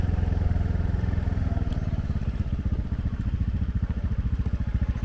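Motorcycle riding along a rough mountain road, its engine loud and close with a steady, rapid pulsing chug and some rattling clatter throughout, no talking.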